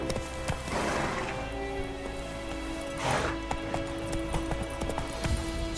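Roach the horse in The Witcher 3 walks with a steady clip-clop of hooves, close and clear. Its gait is fairly regular and sits over a low ambient bed, with no speech.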